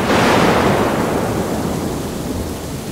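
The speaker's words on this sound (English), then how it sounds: "There was lightning. There was thunder." Thunderstorm by the ocean with pouring rain: a deep rumble of thunder swells at the start and fades into heavy, steady rain noise, loud and close, no speech.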